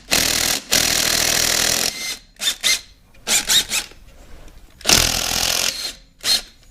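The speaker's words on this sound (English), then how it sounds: "I'm going to be using this impact driver. But go easy because it's going into aluminum" An impact driver drives a fastener into aluminum on a 1964 Dodge Custom 880 in several loud bursts: two long runs, then a string of short stuttering hits, another long run and a final short burst, with quiet gaps between.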